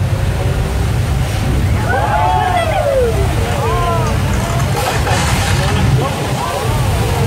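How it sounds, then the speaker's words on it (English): Rushing water from a flash flood effect on a Universal Studios Hollywood theme park tram ride, a loud continuous roar and surge close by, with voices talking over it. "The flooding results from thousands of gallons of recycled water coming from tanks at the top of the hill"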